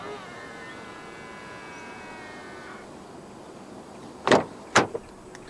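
Two short, sharp mechanical clunks close together from a 2019 Toyota C-HR 1.8's door locks, triggered by touching the front door handle, with a faint third tick after; a quiet hum and a fading tone come before them.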